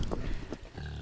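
A pig grunts several times in short, rough bursts, close by, with no talking.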